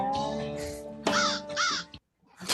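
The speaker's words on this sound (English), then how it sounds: "And then a crow. Call! And obviously fake." A fake crow caw sound effect from a movie soundtrack: two loud, harsh caws in quick succession over a steady musical drone, then a brief silence.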